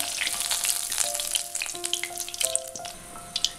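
Butterfly chicken crackles and sizzles steadily in hot oil, a dense frying hiss with scattered pops and a few faint clinks close by, with no talking.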